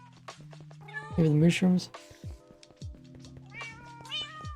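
A white cat in Minecraft meows in a couple of clear, close mews, with a person talking quietly over game background sounds.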